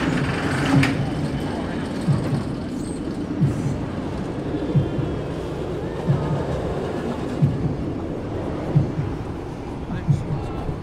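Nemesis Reborn roller coaster train at Alton Towers rolls past on its track with a steady rumble and evenly spaced clacks repeating about every second and a half, moderately close, under a background of crowd murmur.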